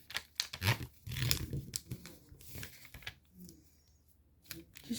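Sheet paper is folded in half for a model paper fighter jet, heard as close, quiet crinkles, creases and soft rustling taps in an irregular sequence.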